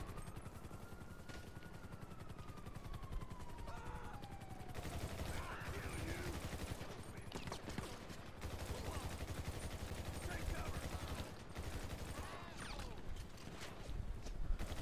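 Rapid bursts of gunfire ring out in GTA 5, dense and continuous throughout, mixed with game noise and a passing whine early on, with a voice talking over the shooting.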